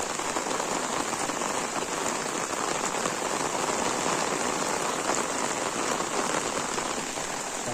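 Heavy evening monsoon rain in a village, a dense, even hiss of drops on surfaces, loud and close, continuing unbroken with no voices.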